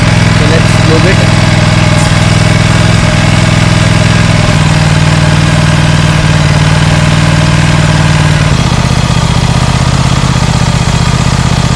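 A motorcycle engine idles loud and close with a steady low rumble while its chain is being lubed, shifting to a slightly different pitch near the end and running the whole time.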